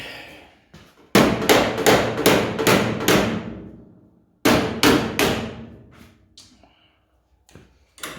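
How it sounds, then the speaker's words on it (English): A hammer strikes a stuck part on a Bedford CA camper van, landing two close, loud bursts of rapid repeated blows, six and then four, with ringing decay between. "Maybe a shock of the hammer will knock it up a bit."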